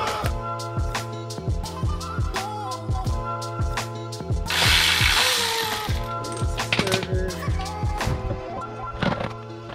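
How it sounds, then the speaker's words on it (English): Ratchet and tools break loose the transmission bolts on a BMW E34 M5 Touring with a boosted S62 engine, a steady rapid mechanical clicking with metallic clanks and one louder hissing burst partway through. "let's start breaking up these trans bolts."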